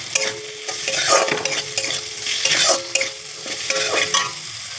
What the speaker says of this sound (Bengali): এখন আমি মশলা দিয়ে দিচ্ছি জিরে আর ধনের গুঁড়ো।